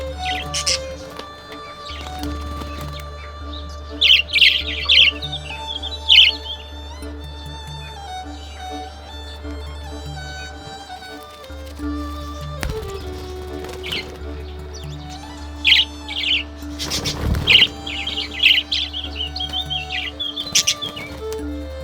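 Budgies in a big aviary keep up bursts of bright, high chirps and tweets over a steady low background hum, louder clusters breaking out now and then.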